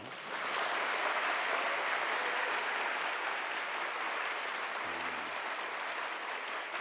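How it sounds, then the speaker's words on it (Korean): Newly appointed civil servants applauding at a lecture hall talk, a soft, steady wash of distant clapping that fills the room evenly for several seconds, with a brief low hum near the end. "박수도 한번 하세요."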